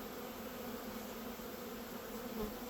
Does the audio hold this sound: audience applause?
no